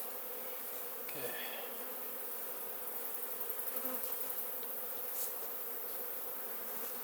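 Honeybees in a Piedmont beehive at midnight, a steady close buzzing hum from the colony with occasional louder passes of individual bees, plus faint handling knocks near the start.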